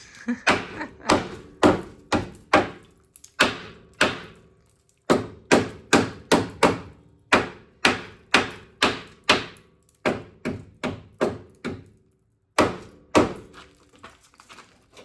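The rusty frame of a Toyota Tacoma pickup takes a long run of hard hammer blows, each a close, loud metallic thunk with a short decay, coming in quick irregular bursts and brief pauses.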